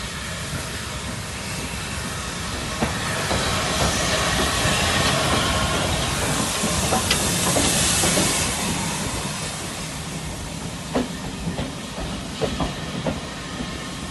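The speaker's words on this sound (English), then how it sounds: "Right, now we're on a train." A steam train on the Bo'ness and Kinneil Railway runs with a steady hissing rumble, a swell of steam in the middle, and scattered clicks and clanks of the carriages.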